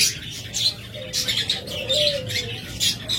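A breeding pair of large pet cage birds chirps in short, bright bursts, repeated several times near at hand, over a low background hum.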